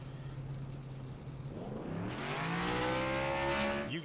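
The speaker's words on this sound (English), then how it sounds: "You can hear him revving up," Race car engine revving on pit road during a 200-lap stock car race at New Hampshire, a loud rising rev that climbs in pitch and swells near the end, heard alone without commentary.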